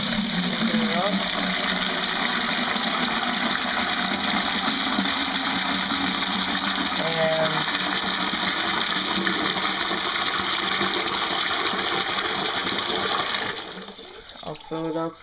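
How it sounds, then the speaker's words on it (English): RO water gushing through an open valve into a 32-gallon Brute container, a loud steady rushing flow that fills the whole stretch and tapers near the end. "Water's flowing in now."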